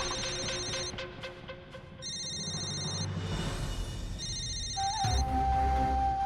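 A telephone rings repeatedly in bursts of electronic tones over a steady background of music and ambience in a domestic drama scene from the TV series Guddan, with no voices.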